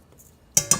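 Two quick metallic clinks as a measuring spoon scoops baking powder while making rum cake, close and crisp after a near-silent pause.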